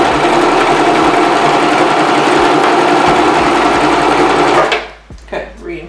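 A sewing machine stitches a lace closure wig, a loud, close, continuous rapid mechanical whirr that runs steadily for nearly five seconds and then stops, leaving faint handling sounds.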